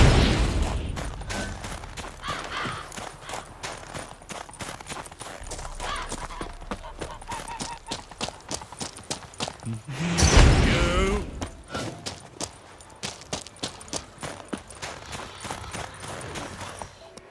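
Horse hooves clip-clopping in The Witcher 3: Wild Hunt, a steady rhythmic trot of crisp hoof strikes lasting throughout, with a louder rumbling burst partway through and spoken dialogue at points.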